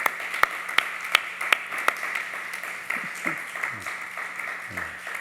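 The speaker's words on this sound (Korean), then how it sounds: "우리 다시 한번 큰 박수로 축하해 주시기 바랍니다" Congregation applauding during a church baptism celebration at a Sunday worship service: scattered, fairly soft handclaps with a few sharp distinct claps early on, thinning toward the end amid room murmur.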